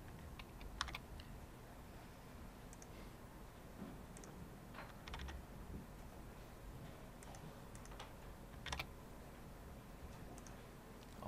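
Faint, scattered keystrokes on a computer keyboard in a quiet room, irregular taps spread out over a low background hum, with no voices.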